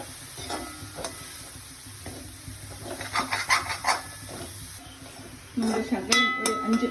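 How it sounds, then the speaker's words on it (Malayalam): Spinach stems and leaves are stirred in a hot pan for Kerala-style egg spinach thoran, with a soft sizzle under irregular scraping and clinking of the spoon against the pan, and a voice briefly heard. "അപ്പം അതിൻ്റെ ഇലയും കൂടെ അങ്ങോട്ട് ഇട്ടു നല്ലപോലെ ഇളക്കാം"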